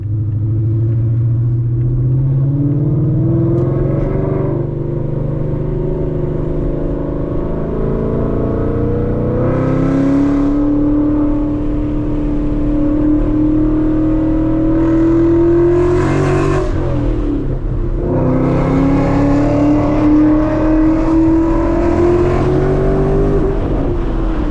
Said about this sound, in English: that was way too much wind noise